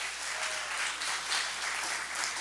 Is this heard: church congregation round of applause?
yes